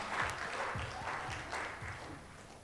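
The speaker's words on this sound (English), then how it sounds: "how about a round of applause for all our presenters thus far?" Audience applause for presenters at a live-streamed event, with moderate, fairly quiet clapping from a modest crowd that continues throughout and tapers slightly at the end.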